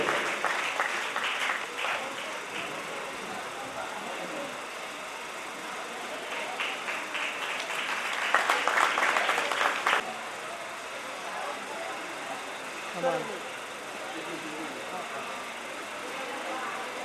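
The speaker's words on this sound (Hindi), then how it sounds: "आपकी जोरदार तालियां होनी चाहिए हमारे इस दानदाताओं के लिए और इस गो भक्त गौ सेवा के लिए।" A crowd claps for donors at a Gopashtami 2023 celebration, with bursts of applause near the start and again midway, mixed with a voice talking over a murmuring hall.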